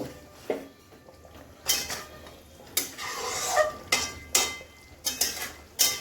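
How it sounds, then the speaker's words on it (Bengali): Stirring pieces of fried catla fish in a cooking pan, with a utensil scraping and knocking against the metal in irregular clacks over a faint sizzle, close by and fairly quiet. "আমি একটু মাছগুলোকে একটু নাড়িয়ে চাড়িয়ে নেবো সুন্দর করে একটু নাড়িয়ে চাড়িয়ে নেব"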